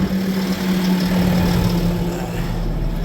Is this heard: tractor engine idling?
yes